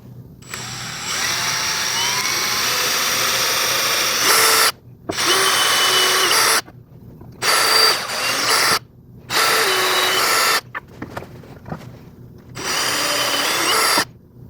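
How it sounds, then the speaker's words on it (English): A small bit drills through the holes of a wooden skateboard deck, several bursts of high, whining power drill of a few seconds each, separated by short silences and near the mic. "I'm going to start with my smallest drill bit, and I'm just going to carefully drill through these holes"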